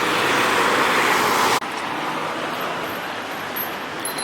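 Busy city street traffic with construction nearby, a loud broad roar of passing vehicles that suddenly cuts off and gives way to a quieter, steady hum of distant cars.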